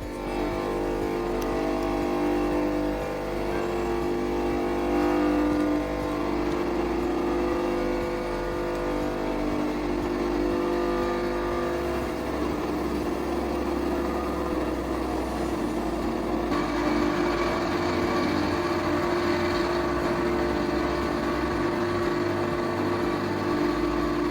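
An STvega Dry grinder mills dried herbs such as dill, parsley and cilantro, making a loud, constant mechanical drone with a rough, buzzing texture and small shifts in pitch partway through.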